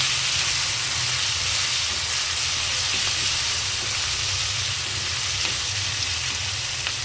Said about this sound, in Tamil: இப்போ இதை நம்ம மசாலா நல்லா வறுத்து எடுத்துக்கலாம்.